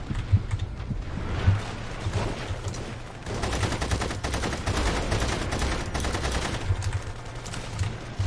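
Rapid bursts of gunfire from the video game The Saboteur, loud and close. The shots come in dense volleys, with a short lull before a sustained stretch of shooting.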